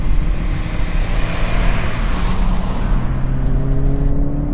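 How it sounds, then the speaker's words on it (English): A 2020 Subaru BRZ engine revs hard while the car drives, a loud continuous drone with rising pitch as it accelerates, close up and without talk. "be revved hard so that the engine will fill the cabin with noise"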